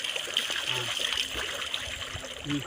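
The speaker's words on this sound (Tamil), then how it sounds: "இப்போ அப்படியே கழுத்தில் ஒரு குண்டா ஊற்று." A pot of water is poured over a bull's neck at a village Mattu Pongal celebration, making a continuous splashing gush close by while people talk in the background.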